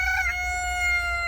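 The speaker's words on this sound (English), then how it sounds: "excuse the chicken, or rooster. He still doesn't know when to be quiet" A rooster crows once, loud and close, a long harmonic call that rises and then holds steady, heard alone.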